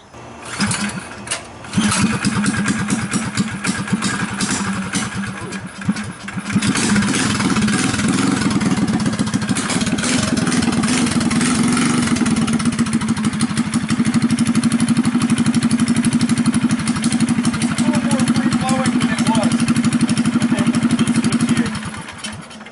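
A pocket bike engine with a billet flywheel, billet connecting rod and the governor removed runs close by, a buzzy small-engine drone that idles at first and then holds a higher, steady pitch before cutting off.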